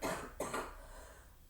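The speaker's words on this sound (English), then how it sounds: "thank you for dealing with the coughing" A single cough, close and fairly quiet, repeated in a short double burst during an indoor yoga session, with no talking over it.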